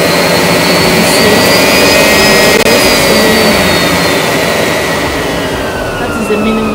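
A Miele Blizzard CX1 bagless vacuum cleaner runs with a loud, steady whooshing roar and a high whine that shifts slightly in pitch, holding constant throughout with a brief click partway.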